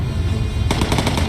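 Sudden bursts of rapid automatic gunfire from the video game Bomber Crew begin partway through, fast repeated shots over a noisy background.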